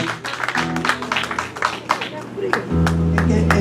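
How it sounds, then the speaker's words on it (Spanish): Clapping from people at a church gathering for a woman named Silvita, a burst of uneven claps with talking and voices over them. "aplauso a Silvita"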